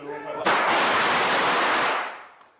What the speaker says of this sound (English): They got fireworks going on.